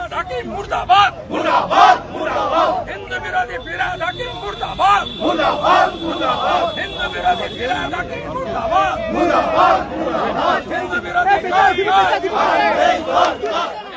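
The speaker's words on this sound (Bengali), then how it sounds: "বিধানসভার কক্ষে এক মিনিট স্লোগান দিয়ে বাইরে বেরিয়ে আসেন বিজেপি" BJP legislators chant slogans in unison inside a state assembly chamber during a protest, a loud, rhythmic group shout repeating in steady waves for the whole stretch with no pause.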